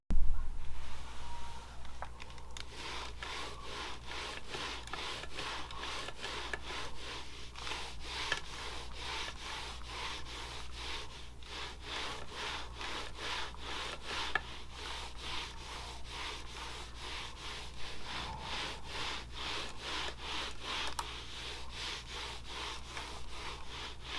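Steady scraping rub of a gaming mouse gliding back and forth over a Macveth Kitsune micro-control cloth desk mat, a continuous dry, gritty friction sound at close range, fairly quiet and without speech.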